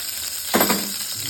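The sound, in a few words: oil heating and sizzling in a wok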